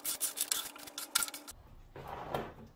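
Rag or scraper wiping excess sodium silicate water glass off an OSB shop table top, a series of close rasping, scraping strokes followed by a softer smearing rub.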